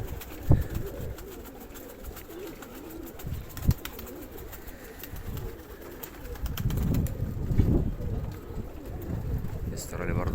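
Pigeons, uneasy at a person's approach, coo softly amid a busy outdoor background on a rooftop loft, with a few sharp knocks and some distant voices mixed in.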